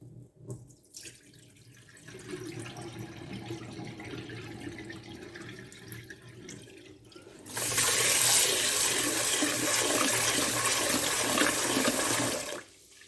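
Rice being rinsed in a sink: water swishes and churns at moderate level for several seconds, then a louder rush of running tap water takes over before cutting off near the end. No one speaks.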